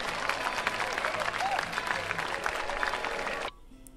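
Dense crowd applause with some cheering in the video game Railroad Tycoon 3 fills the clip steadily, then cuts off abruptly near the end, leaving near silence.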